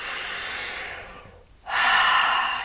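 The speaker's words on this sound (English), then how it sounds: "You can breathe into the belly like breathing through a straw" A slow, deep breath draws in with a soft airy hiss, fades to near silence, then a stronger, fuller breath rushes in close to the microphone.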